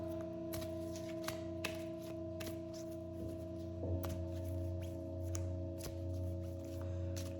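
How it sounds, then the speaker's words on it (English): A deck of cards is shuffled in several quick riffling bursts over a steady background hum with sustained tones, fairly quiet and close. "And we're going to shuffle them."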